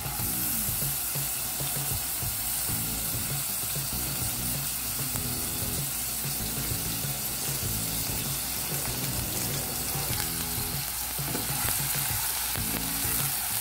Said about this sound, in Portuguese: Aí aqui eu vou colocar a cebola para dourar.